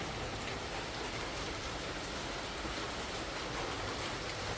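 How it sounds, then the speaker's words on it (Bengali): Steady, dense rain hissing continuously, an even wash of noise with faint patters on a surface and no voices. "আর বৃষ্টি শুরু হয়ে গেছে অলরেডি।"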